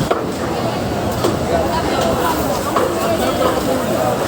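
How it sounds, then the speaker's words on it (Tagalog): Repeated chopping thuds of a blade cutting through a large slab of pork, steady and close, under a busy hubbub of voices and crowd noise at a rainy market. "paghihiwa dito sa isang napakalaking tilar ng baboy"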